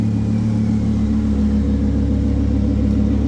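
A Lamborghini Huracan engine idles steadily as it warms up, a loud, continuous low rumble with a smooth, even hum and no revving.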